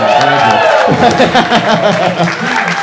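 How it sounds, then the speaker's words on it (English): Audience at a live comedy show in a balcony venue breaks into applause and cheering, a dense steady wash of clapping close to the stage, with voices mixed in. "Can I get an applause break for that?"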